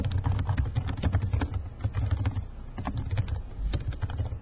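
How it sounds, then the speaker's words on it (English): Continuous typing on a computer keyboard, a dense run of fast, irregular key clicks held at a steady, close level throughout, with no voices. "You can type in a caption for the video file."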